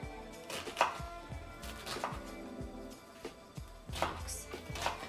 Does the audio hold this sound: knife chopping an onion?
yes